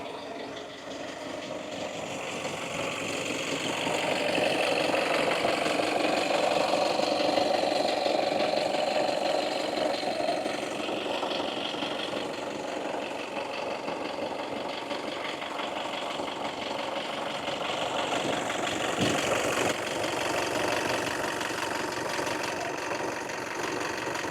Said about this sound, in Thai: เดี๋ยวไปลองฟังเสียงเครื่องยนต์ที่ด้านหน้ากันครับ